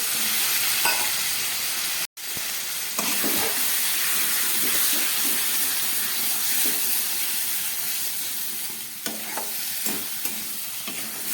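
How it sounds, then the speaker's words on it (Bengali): Egg and cabbage curry with spices sizzling in a pan while being stirred, a continuous close frying hiss broken by scraping strokes and a brief dropout, with no voices. "এটাকে আবার ভালো করে কষিয়ে নিচ্ছি।"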